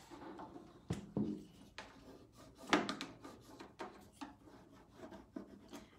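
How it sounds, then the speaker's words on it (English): Fingers rub and press the edges of a transfer onto a metal surface, giving soft dry scratchy rasps in irregular strokes, close and fairly quiet, with occasional sharper brushes and no talk. "So I'm just kind of rubbing my edges."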